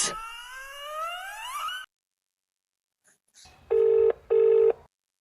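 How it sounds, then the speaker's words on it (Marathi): A rising whistle-like tone gives way to silence, then two loud, steady ringback tones of a phone call being placed, close and clear. "साक्षीला फोन करतो लगेच"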